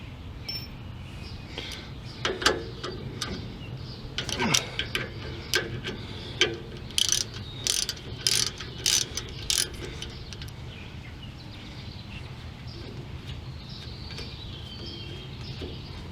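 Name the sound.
ratchet removing Ford F150 brake caliper slide bolt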